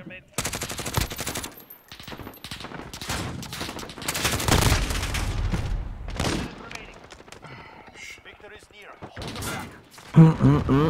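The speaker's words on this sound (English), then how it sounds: "Dude, I'm getting shot through walls." Bursts of automatic rifle fire and explosions crackle loudly through a multiplayer match of Call of Duty Modern Warfare on the Grazna map, with M13 and Scarab weapons, in dense rapid volleys separated by brief lulls.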